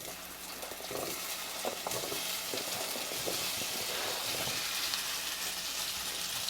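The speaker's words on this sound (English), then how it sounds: "I'm going to give it a few seconds for it to get nice and hot before I put my potatoes in here" Vegetable oil heats in a pan before potatoes go in, a continuous soft sizzle and hiss with faint crackles, close and steady throughout.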